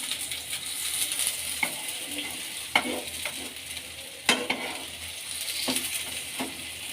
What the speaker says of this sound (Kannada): ಸೊ ಎಣ್ಣೆಲಿ ಚೆನ್ನಾಗಿ ಫ್ರೈ ಆಗಲಿ